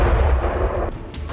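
Rocket strikes and explosions hitting a Ukrainian military depot, a loud low rumbling boom rolling through the first second, followed by sharper bursts, with no voices.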